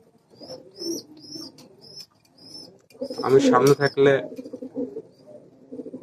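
Giribaz pigeons coo in soft, repeated rolling calls close by, interrupted by someone talking loudly in the middle, with quieter cooing continuing around his speech.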